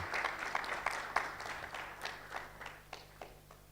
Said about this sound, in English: A clap for him.